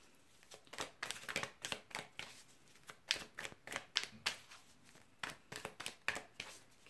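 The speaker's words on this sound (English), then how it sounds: "one more shuffle and then I'll just split it" Tarot cards are shuffled repeatedly close by, crisp riffling bursts in a quick, uneven rhythm with no talking.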